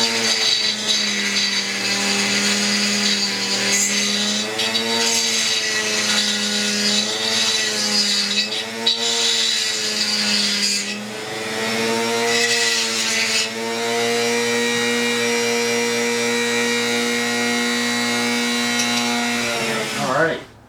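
A Stihl MS200T chainsaw with a modified exhaust runs loud and close, its engine revving up and down in waves for about twenty seconds before cutting off.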